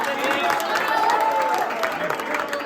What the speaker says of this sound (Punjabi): ਤਾੜੀਆਂ ਮਾਰ ਦਿਓ ਜੀਓ ਸਾਹਿਬ ਜੀ ਦਾ